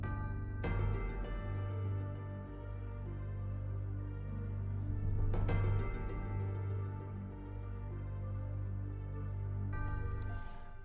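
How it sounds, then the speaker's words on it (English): Dense, dark hip-hop beat with a halftime melody layered over bells and moving strings, built for a spooky trap-style track; a sustained low bass bed runs beneath swelling tonal layers, with two hits marking phrase changes. "this is actually a halftime melody"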